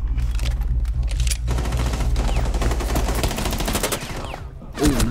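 Rapid automatic gunfire in the Rainbow Six: Siege video game, with dense, loud bursts of shots running almost continuously before a short pause and a final burst.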